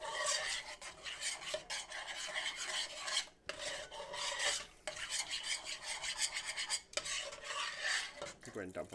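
A utensil scrapes the bottom of a pan while making chicken pot pie gravy, a close, continuous rasping rub in long strokes with brief breaks between them.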